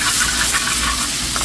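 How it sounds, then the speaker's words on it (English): Chopped garlic sizzles loudly and continuously in a hot pan over high heat, a close, dense hiss for a Dhaba-style paneer bhurji. "chopped garlic in there. Nice sizzle here."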